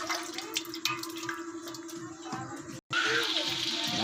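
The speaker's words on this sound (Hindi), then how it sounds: "ये घी डाल रहे हैं हम लोग देग के अंदर" Ghee poured into a large cooking pot (deg) while making chicken karahi gives a steady liquid pouring and sizzling wash that breaks off abruptly near the end, then resumes louder, with faint background voices.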